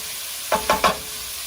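Sliced pork and pumpkin are stirred in a pot with three quick, soft scraping strokes in close succession, heard up close against a quiet background.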